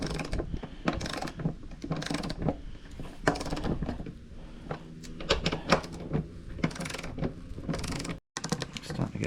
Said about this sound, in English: I'm going to grab my torque wrench. I'm going to start doing these up.